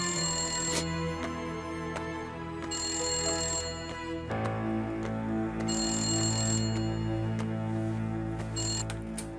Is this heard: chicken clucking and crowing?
no